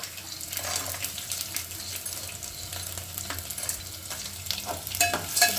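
Peanuts roast in a hot pan, sizzling and crackling, with scraping stirs now and then, continuous and close.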